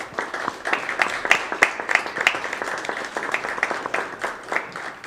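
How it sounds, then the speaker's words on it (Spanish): Audience at a university lecture on electoral crimes claps for a doctor being introduced, a lively round of applause with distinct individual claps standing out, fairly close and loud. "Les pido por favor un aplauso para el doctor."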